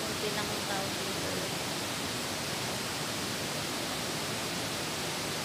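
A small stream flows nearby with a steady, even rush of water that fills the whole stretch without pause.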